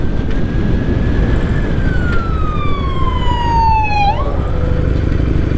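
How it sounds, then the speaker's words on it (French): An ambulance siren passing a motorcycle rider, a single loud wailing tone that sweeps slowly downward and drops sharply in pitch as it goes by, over steady road and engine noise. "Avant d'être interrompu par l'ambulance"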